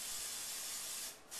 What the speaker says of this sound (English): my waffle iron is hot. I'm going to give it a quick spray so they don't stick.